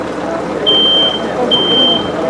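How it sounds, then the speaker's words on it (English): A melting plastic smoke detector in a fire demonstration gives two thin, steady high beeps, each about half a second long, over loud background rumble and noise. "Well, smoke detector still be doing its thing."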